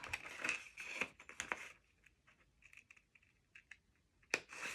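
Scissors barely squeezing through paper or cardstock while a card frame is trimmed at a crafting table: a few crisp, quiet snips and clicks close by, grouped in short bursts with near-silent gaps between them.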